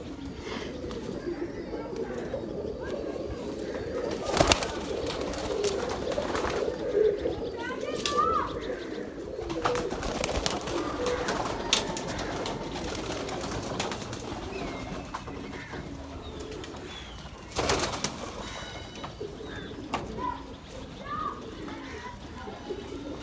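Pigeons, including Chinese-cross birds, coo softly and repeatedly in a loft, with scattered chirps and a few sharp knocks, beneath someone speaking at length.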